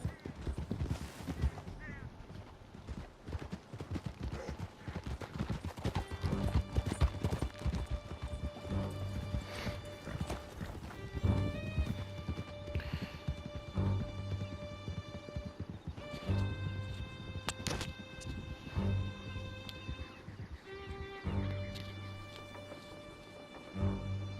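Horses gallop in Red Dead Redemption 2, a steady drumming of hooves with whinnies over a swelling musical score, fairly close and continuous for the whole stretch.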